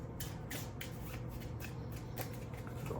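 Cards for a baseball board game are shuffled by hand in quick repeated riffles, a soft close crisp fluttering with rhythmic bursts and no talking over it.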